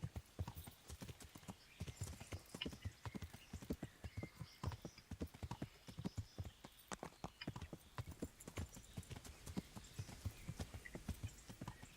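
Horse hooves clip-clop at a steady walking rhythm in the Kingdom Come: Deliverance video game, a quiet, continuous train of hoof strikes without talk.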